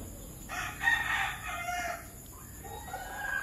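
An SBR broodstag gamefowl rooster crows once, a clear, moderately close call of about two seconds, followed by fainter calling.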